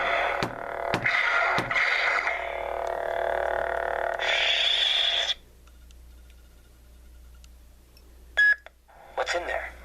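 Graflex lightsaber with a blue-blade sound font: steady low electronic hum under swelling swing whooshes, sharp clash bursts near the start and end, close and fairly loud.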